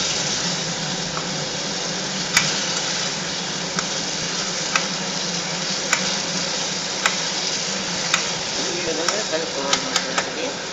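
A pan of amla halwa syrup being stirred, with a steady low sizzle and bubbling under the stirring, sharp ticks of the spoon against the pan recurring every second or so, and a voice talking over it.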